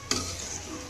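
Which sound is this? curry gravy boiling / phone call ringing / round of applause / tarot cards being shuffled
curry gravy boiling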